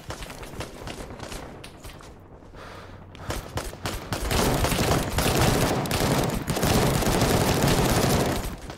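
Dense gunfire in the video game Call to Arms: rapid overlapping rifle and machine-gun bursts, sparse at first, then a loud, sustained fusillade for the last several seconds, with no voices.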